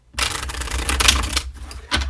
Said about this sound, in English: we're going to move on to Libra after a little shuffle of my deck here.